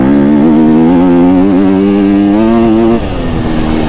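A KTM 250 SXF dirt bike screams at high revs, a loud sustained buzzing engine note that wavers and climbs slightly before dropping off abruptly near the end.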